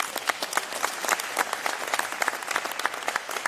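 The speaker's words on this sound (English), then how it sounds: "Let's get a round of applause." A room full of people applauding at the launch of the JamaicaEye national CCTV system, crisp individual claps densely overlapping in a steady round lasting several seconds.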